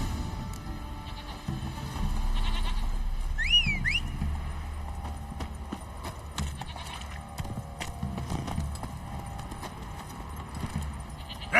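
The horse Roach's hooves clip-clop in a video game, steady and close, with a short animal call partway through and soft ambient game sound around it.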